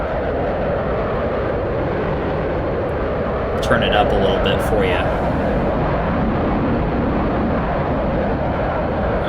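Steady, loud jet afterburner roar from a video game aircraft throttling up for takeoff, a broad continuous rush that holds throughout while someone talks briefly over it.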